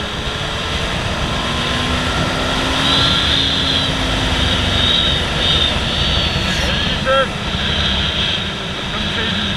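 A motorcycle running on bioethanol accelerates in fourth gear near 4000 rpm, its engine a loud, steady broadband roar mixed with heavy wind rush that holds throughout.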